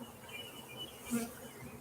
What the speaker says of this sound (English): See the bees coming out?